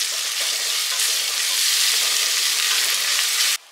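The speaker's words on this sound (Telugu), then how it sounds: "ఈ అల్లం వెల్లుల్లి పేస్ట్ వేసిన తర్వాత 1 నిమిషం అల్లం వెల్లుల్లి పేస్ట్ మంచిగా వేగనిద్దాము" Ginger garlic paste frying with onions for a chana masala curry, a steady, close, bright sizzle that holds evenly for several seconds and then cuts off sharply near the end.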